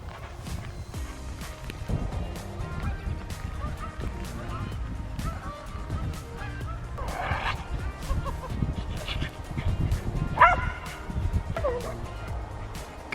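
Dogs, including ones named Blue and Willow, bark and yip at newly arrived Gloucestershire Old Spot pigs on a farm, in scattered sharp bursts over a noisy outdoor background, with a person calling to them at times.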